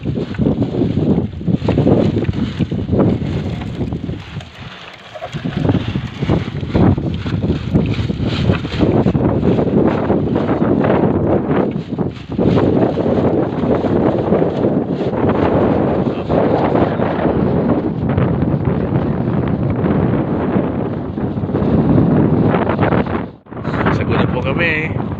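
Strong wind roaring over the microphone aboard a fishing boat at sea, a constant heavy buffeting rush across the whole stretch with people talking underneath.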